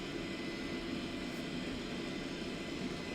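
An airliner climbs out after takeoff in the X-Plane flight simulator, its engines a soft, steady broadband roar with no voices over it.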